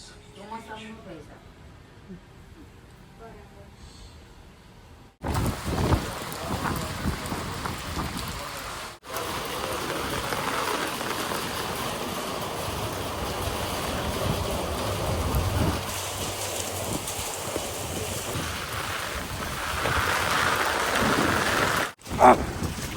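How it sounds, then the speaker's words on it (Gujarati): Steady rain pours without a break, loud and close, pattering on a surface after a quieter opening with faint voices. "કોન્સ્ટન્ટ વરસાદ તો ચાલુ જ છે"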